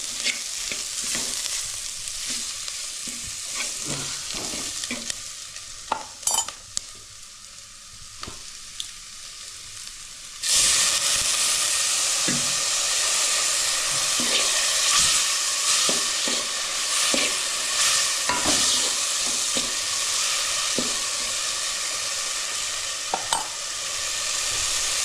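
Onions sautéed with turmeric and red masala in a pan for a black crab curry, a steady sizzle with scraping stirs, quieter at first then jumping to a loud, dense frying hiss that continues to the end.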